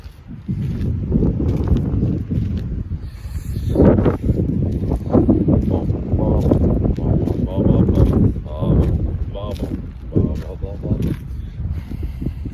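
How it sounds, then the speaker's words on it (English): Strong wind buffets the microphone in a steady roar, with gusts swelling and easing throughout while steps and movement sound underneath. "It's windy as heck"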